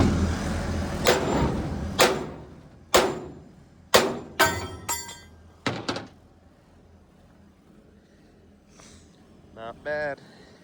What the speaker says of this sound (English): We'll beat that down